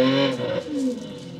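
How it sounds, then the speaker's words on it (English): A Lamborghini Aventador engine sound played through a Tesla's external speaker, a short close tonal rev with a falling pitch that fades within about a second. "This is a Lamborghini Aventador."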